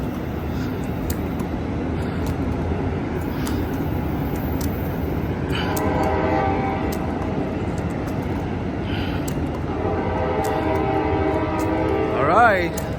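An Amtrak Capitol Corridor train bound for Sacramento departs Oakland Jack London Square, its engine rumbling steadily and its horn sounding in long blasts, loud and close, with a person talking nearby.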